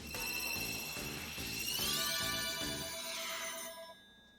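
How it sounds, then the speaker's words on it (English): A telephone rings with a bright electronic ringtone, a repeating pulsed tone pattern that grows louder and then fades out near the end, heard alone without talk. "It has continued to ring."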